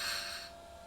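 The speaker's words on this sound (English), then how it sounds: "you can hear that there's two people breathing" A single brief breath rasps through an oxygen mask in the CL650 flight simulator, loud and airy at first, then fading quickly.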